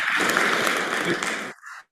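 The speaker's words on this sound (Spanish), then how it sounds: "Ahí se escuchan los aplausos" Crowd applause played back through speakers in a lecture hall, a dense steady clapping that cuts off abruptly near the end.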